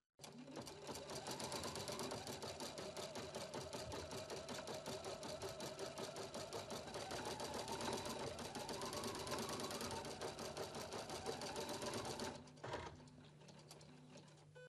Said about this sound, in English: Touch Start Stop to embroider the design in the lower left corner of the standard hoop.